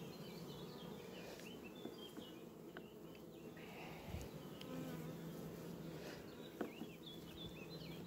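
Many honey bees buzz at an opened hive in a dense, continuous drone, faint and steady, with occasional small clicks and knocks nearby.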